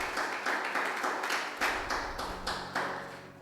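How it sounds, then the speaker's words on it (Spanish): Rhythmic clapping from a church congregation, steady repeated claps with periodic louder bursts, moderately close and without talk. "Dale un aplauso al Señor"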